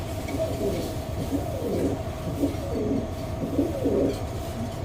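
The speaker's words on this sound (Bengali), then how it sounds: "এখানে কালদম কবুতর দেখতে পাচ্ছেন" Kaldom pigeons at a pigeon farm coo in repeated low rolling phrases, several calls close by over a faint background hum, with no talking.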